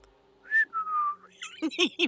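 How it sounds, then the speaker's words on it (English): A character in The Darkside Detective adventure game whistles a short, innocent two-note tune, clear and close, followed by a few quick voiced syllables. "Whistling innocently."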